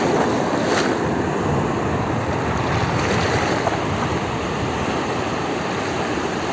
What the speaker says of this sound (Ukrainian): Під вечір завжди такі великі хвилі